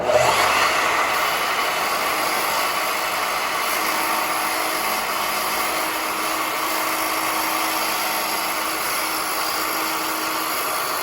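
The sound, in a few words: saw cutting wood for a stair tread mitre return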